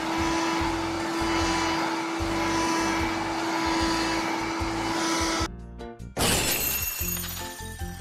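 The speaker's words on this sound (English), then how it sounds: "Vacuum here too." A vacuum cleaner in a kids' house-cleaning video game, a steady electronic whirring hum for several seconds that cuts off abruptly, followed by a short shattering crash and clatter.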